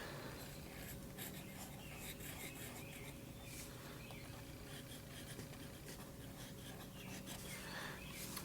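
A bold-nib fountain pen scratching across paper up close, a soft continuous rasp of strokes with faint rhythmic pulses, quiet and alone without talk.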